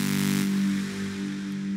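White-noise synth bass in Reason 8 run through warp distortion, a continuous gritty, saturated drone with a strong low hum and rough, engine-like buzz, holding steady and loud with slight swells.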